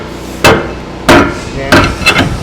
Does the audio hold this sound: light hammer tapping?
yes